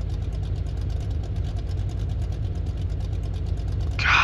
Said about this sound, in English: Listen to this car in idle.